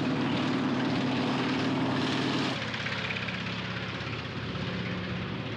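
A crop-spraying airplane drones loudly and steadily overhead, a continuous propeller engine roar whose pitch drops partway through as it passes and moves on.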